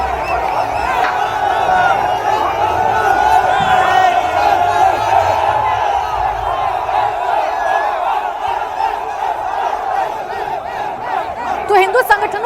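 A large crowd of protesters fills a street in Karnataka during a Ganesh procession disturbance, sustained loud roaring and chanting voices massed together throughout, with a sharper burst near the end.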